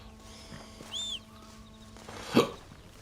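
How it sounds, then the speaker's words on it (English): Hiccups come in a few short, sharp bursts, one near the start and a louder one near the end, in a quiet setting with faint background sound. "I've also got hiccups, I'm sorry."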